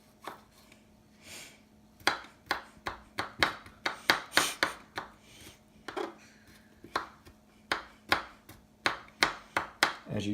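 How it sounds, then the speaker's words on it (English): Knife mincing ginger root on a board, a run of quick sharp chops in uneven bursts, close and fairly quiet, with no talking. "we're going to take some of our ginger root and begin to mince it"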